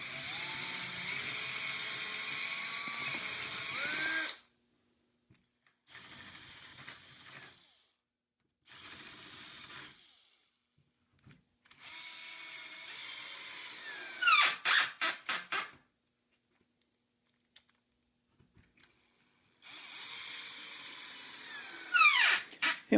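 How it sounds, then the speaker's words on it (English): Power drill pre-drilling and countersinking screw holes in the side of a concrete countertop form, in three separate loud whining bursts with short clicks and quiet gaps between them, no talk. "Then I can pre-drill and countersink the holes every 6 inches for this side of the form."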